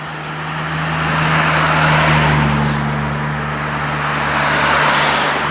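Cars drive by on War Memorial Drive, a loud continuous traffic roar that swells as one vehicle passes, eases, then rises again with another near the end, with a steady low engine hum underneath.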